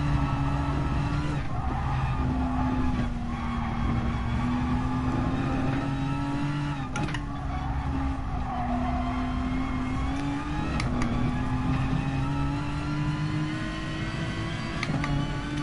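Race car engines drone steadily in GT Sport, a sustained close engine tone rising and falling gently through gear changes with occasional brief tire scrubs, no talking.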